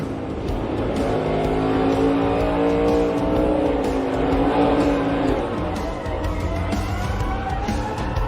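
Race cars circle the track at Gateway under caution during the Enjoy Illinois 300, a continuous loud engine drone with shifting pitch as cars pass, over crowd and track noise.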